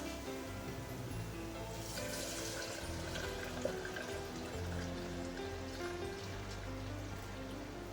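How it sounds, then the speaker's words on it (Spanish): Milk being poured through a kitchen strainer, a soft continuous stream of liquid trickling and splashing at low volume, steady for several seconds with a faint clink partway through and no talking. "voy a apagar la leche y la voy a pasar aquí, al colador"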